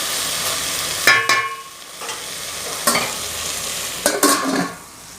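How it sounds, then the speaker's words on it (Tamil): Sambar being stirred in a cooking pot, with a few distinct scraping stirs against a soft simmering background. "நம்ம ஒரு வாட்டி இதை கிளறி விடுவோம்"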